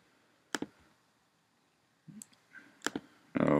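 Computer mouse clicks while editing text box fades in iMovie, a few sharp, close clicks spaced apart with quiet gaps, ending in a brief louder rustle.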